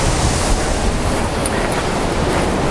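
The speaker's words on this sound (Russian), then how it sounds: "А волны тем временем усиливаются." Storm surf breaking on the shore at Simeiz, Crimea: a loud, continuous roar of crashing waves with wind noise mixed in, steady throughout with no speech.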